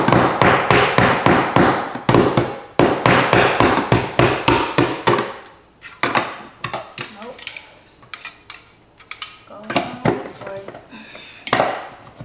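Repeated hammer blows on nails going into a wall, a rapid run of sharp, loud taps and thuds for the first few seconds, then sparser, uneven strikes with pauses.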